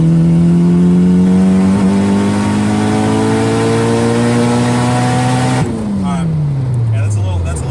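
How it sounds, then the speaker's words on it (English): A turbocharged K24-swapped Acura RSX pulls hard under boost. Its engine note climbs loud and steady through the revs, then drops sharply at a gear change before it builds again. "let's do a pull real quick"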